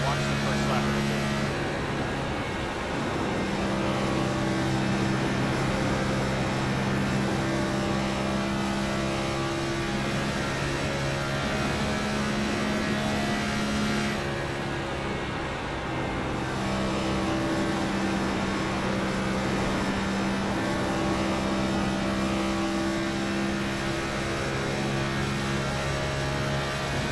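A NextGen stock car engine drones through a lap of Kansas Speedway in the iRacing game, a loud steady high-revving whine with slight pitch rises and dips throughout, constant and close.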